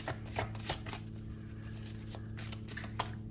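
Tarot cards are shuffled and drawn by hand, a run of quick crisp riffling slaps and soft card flicks in irregular bursts over a faint steady hum.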